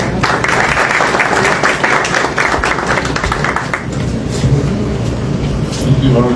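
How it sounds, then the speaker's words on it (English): Audience applause at a World Bank Africa policy launch event following a call for a round of applause for the finance minister, a dense, continuous crowd clapping that fills the whole stretch and eases slightly toward the end. "A round of applause, please."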